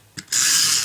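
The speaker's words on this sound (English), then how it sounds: "my noisy glue" A noisy glue applicator gives a short mechanical ratcheting click, then a steady rasping buzz, loud and close with no talk.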